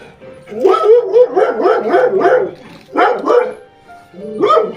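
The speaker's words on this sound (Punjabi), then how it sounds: "ਟਾਈਗਰ ਭੌਂਕ ਰਿਹਾ" A dog barks repeatedly nearby, a rapid run of loud barks followed by a pause and then two more bursts.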